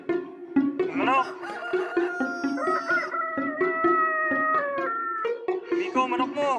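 A person imitates a chicken during a game show, making a string of loud, bending squawks and clucks over about six seconds, with pitch sliding up and down, amid steady crowd noise and background talk.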